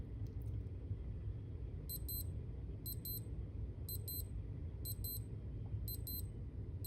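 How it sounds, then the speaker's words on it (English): Casio WS1500H fishing timer watch alarm sounding as repeated short double-beep bursts, high and thin, roughly once per second over faint background hiss, with no voices. "You'll hear the alarm sound."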